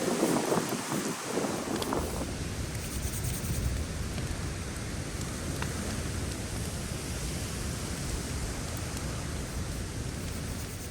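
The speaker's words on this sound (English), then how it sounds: "this wind is just killing all of the wood so quick" Steady wind roars across open Arctic terrain, a continuous broadband rush buffeting the microphone with a few brief gusty bumps near the start and no voices.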